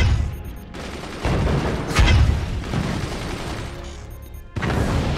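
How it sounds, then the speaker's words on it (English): Heavy mortars in the fort-building video game Forts fire in booming, rumbling volleys, loud and close, with dense overlapping blasts and a few sharper cracks spread across the stretch. "Flipping heavy mortars, that's not good."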